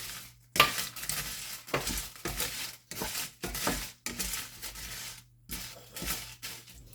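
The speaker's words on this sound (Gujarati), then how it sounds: "તેમાં આપણે મરચાં નાખી દઈશું। કાશ્મીરી મરચાં લીધા છે, તે નાખી દઈશું।" Kashmiri chillies fry in a pan for bitter gourd chutney, with a light sizzle under repeated bursts of scraping and stirring against the metal, separated by short pauses.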